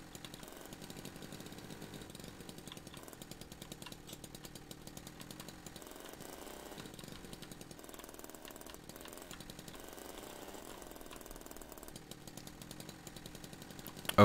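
A worn-out car's engine drones steadily in a driving video game, a rough, buzzing mechanical hum that holds almost unchanged for the whole stretch, with a brief louder burst at the very end.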